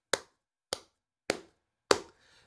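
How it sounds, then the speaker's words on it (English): Four sharp hand claps in a quiet room, evenly spaced about half a second apart, each a crisp close snap with a short decay into silence, used as an audio sync marker. "give yourself some air in the room and then clap 3 times"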